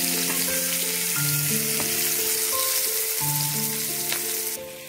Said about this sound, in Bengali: পেঁয়াজগুলো খুব লাল করে ভাজার দরকার নেই, হালকা লাল যখন হবে তখনই আমি এর মধ্যে চিকেনগুলো দিয়ে দেব